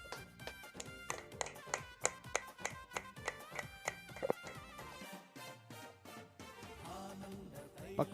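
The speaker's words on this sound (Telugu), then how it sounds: "అందరం కూడా చప్పట్లు కొడదాం." People clapping in a rhythmic beat at a birthday celebration held by a church ministry, quiet, evenly spaced claps over tonal music, fading into sustained music near the end.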